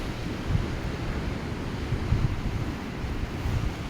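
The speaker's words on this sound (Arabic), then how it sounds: "اجواء البحر ما شاء الله" At the seaside, waves wash in a constant surf roar while wind buffets the microphone, with low thumping gusts rising and falling throughout.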